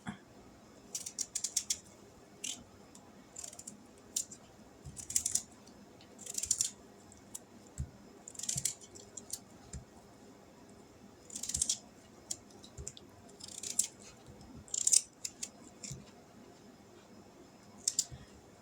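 Mixed greens are cut up in a kitchen with soft, crisp snips and clicks that come in irregular bursts, fairly quiet and close, with no talking.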